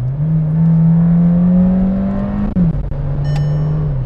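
Skoda Slavia engine revving hard after a paddle-shift downshift, a loud sustained drone that climbs steadily, dips briefly as the gear changes, then holds high again close to the cabin.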